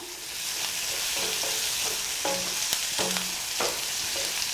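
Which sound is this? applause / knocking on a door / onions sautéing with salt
onions sautéing with salt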